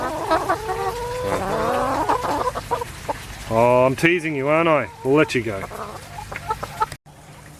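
Backyard chickens cluck and squawk in a loud, busy series of calls close by, with someone talking softly over them throughout.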